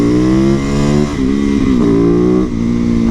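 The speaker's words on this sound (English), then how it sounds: "on the clutch I like to do 2 finger wheelies on here." A motorcycle engine revs hard and steadily up close while the rider pulls a clutch wheelie. The drone dips briefly twice as the clutch is worked, then picks up again.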